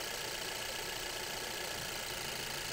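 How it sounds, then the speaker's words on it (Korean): A car engine idles with its cylinder 1 spark plug forcibly removed, giving a steady, faint, noisy hum with no voices. "시동이 걸려 있으면 이 상태에서 자, 강제적으로 1번에 플러그를 빼볼겠습니다"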